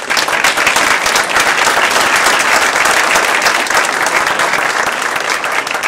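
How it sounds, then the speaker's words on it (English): An audience at a live presentation event claps loudly and continuously, producing a dense, steady wash of applause for several seconds. "please give him a warm round of applause"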